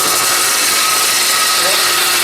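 A wood lathe spins a plywood workpiece with a steady, loud, continuous whirring hiss and cutting rasp, close up and unbroken throughout.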